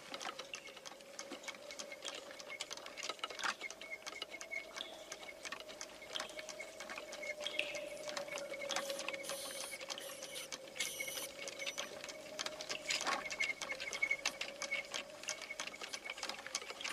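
An animated spinning wheel turns steadily, winding yarn onto the spindle with a soft continuous whir and light rhythmic clicking that lasts throughout at a moderate, even level.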